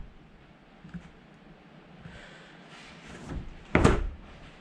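A newly installed exterior door swings and shuts, with faint handling noise and a soft knock early on, then a single loud, close thud as it closes near the end.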